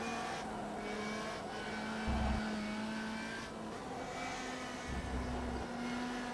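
Radical SR3 RSX race car engine in the rFactor 2 racing game, droning steadily at high revs with brief gear-shift dips and bursts, loud and continuous with no voices.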